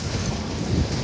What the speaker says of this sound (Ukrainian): Бачите, тут вітер.